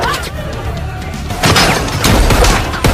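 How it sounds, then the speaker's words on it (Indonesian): Bursts of Free Fire game gunfire crack and boom in quick succession in a shootout, sharp impacts layered over busy background noise. "yang membuat Sophia marah dan terjadilah tembak-tembakan Free Fire"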